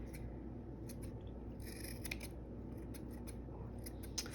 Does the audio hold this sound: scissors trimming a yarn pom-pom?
yes